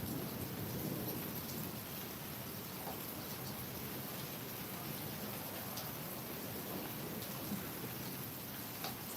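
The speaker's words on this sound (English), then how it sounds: "It's raining." Heavy rain falls in a steady, even hiss, close and continuous, with a faint low rumble underneath and no voices.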